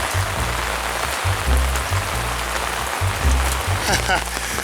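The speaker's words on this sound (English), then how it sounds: "I'm honestly in awe how much rain is pouring down at the moment." Heavy rain pours down in a dense, steady roar, with a voice speaking quietly underneath.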